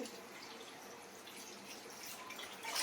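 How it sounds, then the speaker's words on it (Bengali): Running water splashes and drips steadily while prawns are rinsed clean under a tap, a soft continuous wash that swells slightly near the end. "চিংড়ি মাছগুলো ভালো করে ধুয়ে নিচ্ছি"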